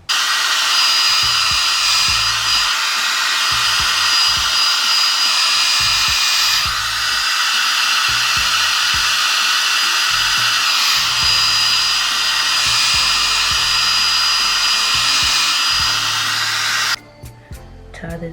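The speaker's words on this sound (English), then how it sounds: "we're gonna blow dry it because we're gonna speed up this process" A hair dryer blows steadily on a braided wig, a loud, close, continuous whooshing whine with slight wavering. It cuts off abruptly near the end.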